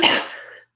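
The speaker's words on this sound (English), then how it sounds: "Sorry for the cough." A single sharp cough, close and fairly loud, with a raspy throaty tail that fades out within about half a second.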